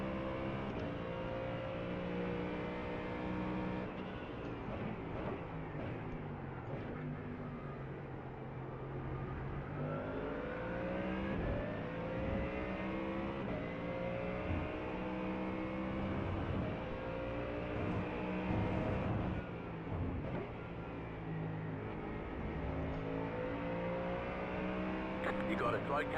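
Ford Mustang GT3 race cars roar around the Jerez circuit in a racing video game league, a dense, continuous engine drone rising and falling through gear shifts as a pack runs together, with a spotter's voice talking over it.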